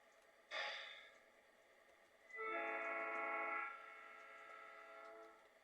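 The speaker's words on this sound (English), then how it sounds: "The school train is here." A train arrives with two horn blasts, a short bright toot followed by a longer held chord, both faint and quiet, then a soft lingering hum.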